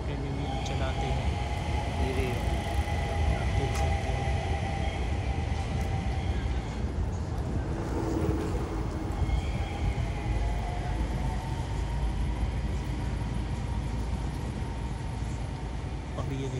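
A modern tram pulls into a stop in Stockholm, a steady rumbling roll with faint electric whines and squeals, heard continuously in a busy outdoor setting.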